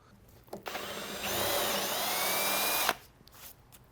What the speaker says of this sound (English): A Forstner style bit, if you were to drill instead of clean through